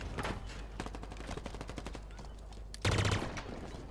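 Rapid, evenly spaced gunfire in the shooter Halo Infinite rattles out in steady bursts, with a louder, heavier volley near the end.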